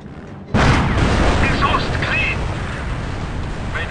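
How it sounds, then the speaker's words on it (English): A smoke barrage of artillery in Company of Heroes lands with a sudden loud boom, followed by a dense rumbling roar of explosions that slowly fades, with a few faint tones over it. "Launch the smoke barrage!"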